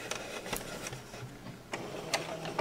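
A sewing machine stitching bias tape at slow speed, with sparse irregular needle clicks and a soft motor hum, close by and fairly quiet, with no voices.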